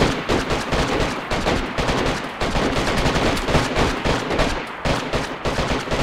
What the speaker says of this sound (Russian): ты видишь, они как стреляют